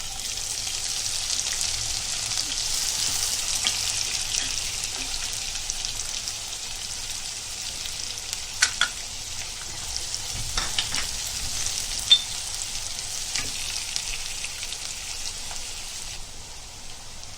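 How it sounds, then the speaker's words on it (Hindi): Chopped onions fry in hot oil with cumin seeds, a soft, even crackling sizzle with scattered pops and occasional stirring clicks, steady throughout with no voices. "जीरा को तरतर तरतर हुआ ना, फिर इसके अंदर ये प्याज डालेंगे।"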